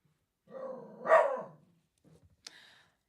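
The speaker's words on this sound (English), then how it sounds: "my goodness, this dog." A single dog gives a short bark-like yelp with a harmonic whine, followed by a couple of faint low sounds and a brief sharp yip, close by and otherwise quiet.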